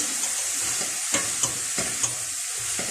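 Zucchini fries in a pan with a steady close sizzle, broken by several sharp scraping clicks as it is stirred, with no voices.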